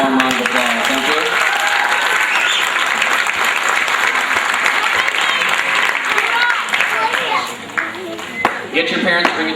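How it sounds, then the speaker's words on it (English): A crowd at a community softball event applauds children, loud steady clapping and cheering across many seconds, with voices and kids talking mixed in toward the end. "I think they all deserve a warm round of applause."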